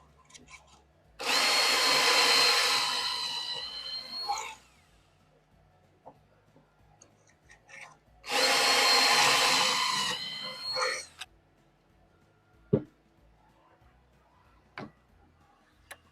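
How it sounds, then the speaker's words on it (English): Two long bursts of a power drill whining at high speed, drilling pocket holes in wood with a Harbor Freight pocket hole jig, each about three seconds, separated by quiet pauses with faint clicks and taps. "make sure that you drill your pockets on the same side"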